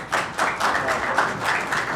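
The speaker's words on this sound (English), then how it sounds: "Give Jeremy a round of applause." An audience at a tech conference talk on AI-as-a-Service logging claps steadily, broad close-up applause that swells and holds for about two seconds with no voices.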